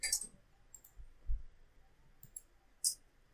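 Soft computer mouse clicks while editing a blog post, about five faint isolated taps spread irregularly over a few seconds in a quiet room.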